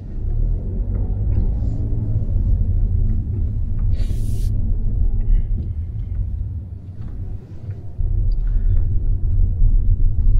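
A loud, deep rumble of a Mazda car pulling away in drive, dipping briefly before swelling again, with faint ticks and clicks over the steady low drone.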